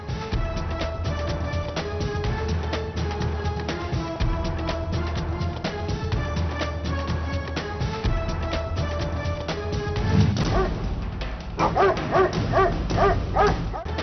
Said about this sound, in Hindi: गली मोहल्लों में आवारा कुत्तों की भरमार।